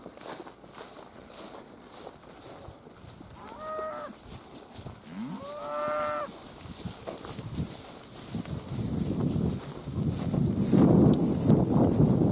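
A cow in a cattle herd lets out two moos a few seconds apart amid shuffling hooves and farmyard noise, with a louder rumbling rush building afterward.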